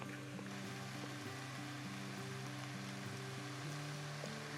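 Pork belly, seasoned with salt and pepper, sizzles steadily in a pan, a soft continuous crackle and hiss heard faintly and without talk.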